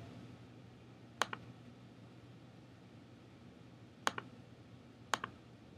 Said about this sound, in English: I'm going to click OK.